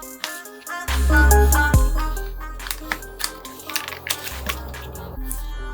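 Unboxing the box of a Cosmic Byte CB-GK-18 budget mechanical keyboard with red switches: close cardboard crinkling, scraping and rustling, with a thump and sharp clicks as packaging is handled under steady background music.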